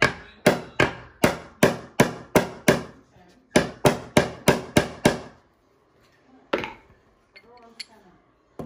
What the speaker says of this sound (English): So I'm gonna take my hammer and go in a little bit and then bring this one down.